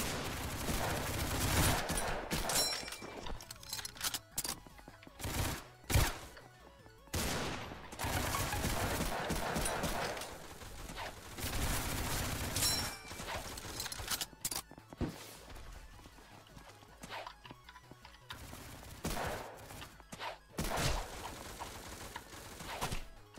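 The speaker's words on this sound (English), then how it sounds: "Okay, I'm getting shot." Rapid gunfire from a Roblox Ragdoll Universe match, including submachine gun bursts, crackling in dense volleys with brief gaps throughout, loud and close with no talk over it.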